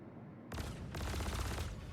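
Rapid automatic gunfire from a weapon in the video game Star Citizen, a dense burst that starts abruptly and keeps rattling to the end, loud and close, no talking.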